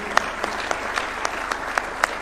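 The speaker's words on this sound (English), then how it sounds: "Another round of applause for His Excellency." An audience applauds a Kenyan presidential speech at a university launch event, with steady dense clapping from a crowd, a few sharper claps standing out at a regular pace.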